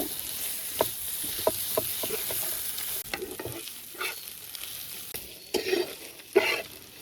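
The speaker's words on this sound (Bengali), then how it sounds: "সিদ্ধ করা লাল শাক গুলো দিয়ে দেব এখন সুন্দর মতন ভেজে নেব" Boiled red amaranth greens frying in a pan, an even sizzle with scattered soft clicks and scrapes of a spatula turning the leaves, close by with no voices.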